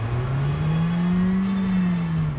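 A car accelerates steadily during a driving lesson, its engine tone rising and holding loud and close throughout with no talk over it.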